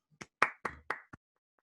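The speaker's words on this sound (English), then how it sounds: "Please give yourselves a round of applause." A handful of sharp hand claps, about five in quick, uneven succession, close by and then stopping.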